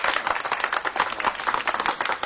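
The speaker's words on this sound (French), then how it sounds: "S'il vous plaît, on peut applaudir pour ça au moins sinon." An audience at an African music showcase claps for a band: dense, steady applause of many hands, fairly loud and continuous, with no voices on top.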